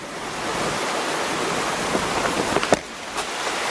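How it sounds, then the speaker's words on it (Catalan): Light rain falls outdoors in Scotland as a steady, soft hiss with a few faint ticks and taps, and no voices. "Plou poquet, no plou gaire."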